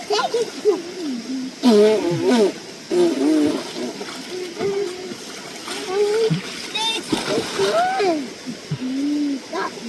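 A child splashes in a forest creek at a state park, with steady water splashes throughout under frequent children's voices and adult talk.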